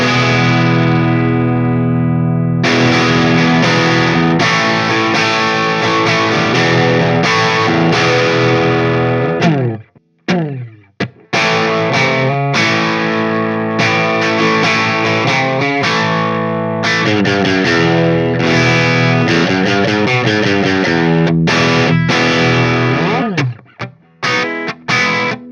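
Electric guitar on the bridge pickup, played straight into a Dr. Z Maz 18 amp with a 2x12 cabinet, rings out in loud, full, distorted chords and riffs, breaking off briefly midway before resuming.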